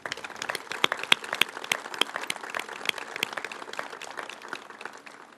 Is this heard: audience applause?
yes